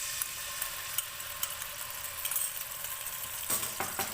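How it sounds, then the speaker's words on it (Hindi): Garlic ginger paste sizzles in hot oil in a pan for a chicken curry, a soft steady hiss with scattered pops and crackles, faint and close, no talk. "ऑयल हमारा गर्म हो गया है, इसमें लहसुन अदरक का पेस्ट डालेंगे।"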